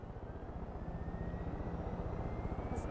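Helicopter engine in the video game Far Cry 5, a steady droning rotor and engine roar with a low pulsing beat, close and continuous throughout.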